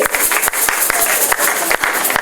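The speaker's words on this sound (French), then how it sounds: "Est-ce qu'on peut acclamer pour la parole?" Church congregation clapping and cheering at a women's leadership conference in Kinshasa, a dense wash of applause with sharp individual claps standing out, loud and close, with some voices mixed in.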